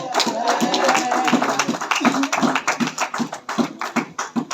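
A church congregation clapping in rhythm, steady fast claps from many hands close by, with singing or voices mixed underneath.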